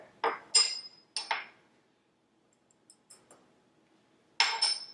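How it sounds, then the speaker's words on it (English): Sugar, flour, salt and baking powder being mixed together in a bowl for pancake batter, heard as a few sharp utensil clinks against the bowl in short clusters, separated by near-silence. "I'm going to mix that all together"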